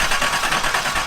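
A 1982 Datsun 280ZX engine idles roughly, a steady close mechanical drone with an uneven throb running through the whole short stretch, no voices over it.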